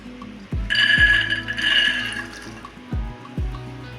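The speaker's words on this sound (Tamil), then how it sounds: "இதில் ரெண்டு கப்பு தண்ணி ஊற்றி" Water pours steadily into a metal pressure cooker for about a second and a half, with a few clinks and knocks of the vessel around it.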